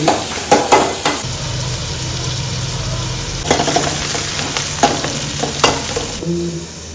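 Carrot sizzles steadily in a hot frying pan, a continuous crackling hiss punctuated by several sharp clanks of a utensil stirring.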